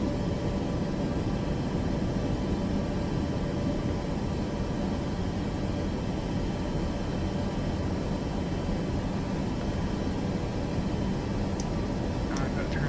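Boeing 737 Max 8 reverse thrusters in Microsoft Flight Simulator 2024, a loud continuous broadband jet roar that holds steady throughout, with a couple of faint clicks near the end.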